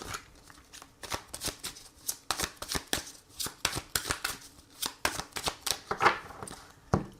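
Tarot cards shuffled by hand in a rapid run of crisp, papery riffles and slaps, a dense irregular patter of sharp bursts repeating steadily throughout, close and fairly quiet with no voice.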